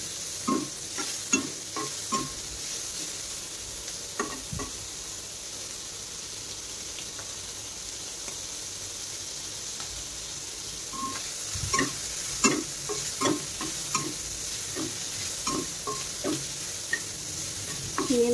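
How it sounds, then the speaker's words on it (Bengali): Prawns fry in a little oil with honey, a continuous close sizzle with scattered clicks and scrapes of stirring, no talk. "অল্প তেলের ওপর একটু মধু দিয়ে চিংড়ি মাছ দিয়ে ভাজলে"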